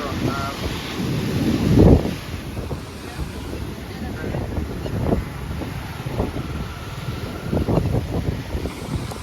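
Strong storm wind gusts across the Alang ship breaking yard coast, buffeting the microphone with a steady broadband roar that surges loudly near the start and keeps pulsing throughout, with faint surf-like wash beneath.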